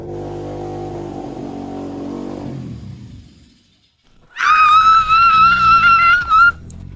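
A motorbike engine cranks over with a low rumble that dies away, then after a brief silence catches and holds a loud, high, steady idle at close range before cutting off abruptly.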